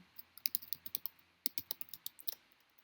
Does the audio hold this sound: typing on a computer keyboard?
yes